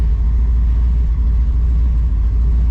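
A 1955 Chevy gasser with a big-block engine, tunnel ram intake and dual four-barrel carburetors, run without a choke, idles with a loud, steady, deep rumble close by. No one speaks.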